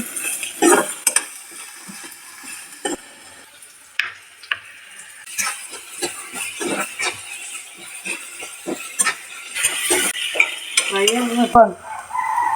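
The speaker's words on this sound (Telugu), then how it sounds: "క్యారెట్, బీట్రూట్, ఆలు మొత్తంగా వేసి ఫ్రై చేయాలి" Carrot, beetroot and potato fry in a pan while a spoon scrapes and stirs them, giving irregular clanks and scrapes over a steady soft sizzle, close and moderately loud, with no talk.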